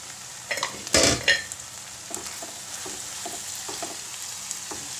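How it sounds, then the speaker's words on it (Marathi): Bombay duck (bombil) chilly being sautéed in a pan: a steady frying sizzle with a sharp clatter of stirring near the start, then soft repeated scraping strokes. "आता छान परतले"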